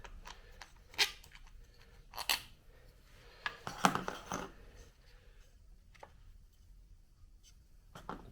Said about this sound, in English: Pop this plastic cover off the back.